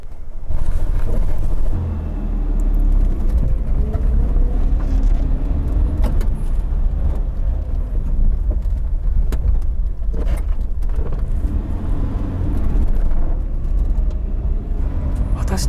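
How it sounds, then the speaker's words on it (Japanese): A 1985 Daihatsu Atrai with a two-cylinder 550cc engine idles with a steady low mechanical rumble, close by, while a person talks over it. "エンジンはメカノイズがですね、小さいわけではないんですけれども、それが嫌じゃないですね。"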